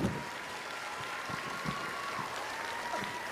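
An audience at a live Vietnamese stage show in the Philippines applauds, a dense continuous wash of clapping throughout, fairly loud and close with no talk over it.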